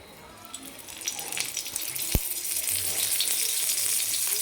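Cluster beans dry-roast on a flat iron tava before oil goes in, giving a soft hissing sizzle that gradually swells, with a faint voice in the background.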